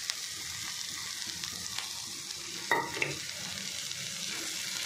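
Okra pieces from an okra-peanut fry sizzle in a pan with dry coconut and garlic powder, a steady close frying hiss with scraping stir strokes and a brief louder clatter partway through.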